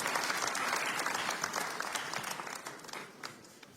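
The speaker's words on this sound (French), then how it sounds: "Let's put hands together." Applause from a church congregation at a service with a pastor and interpreter in Canada: steady, dense clapping from a crowd, close and sustained, slowly fading over a few seconds.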